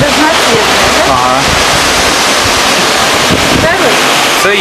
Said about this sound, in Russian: Это есть Средиземное море.